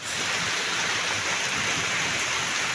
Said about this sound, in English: Anyway, we thank God for the rains.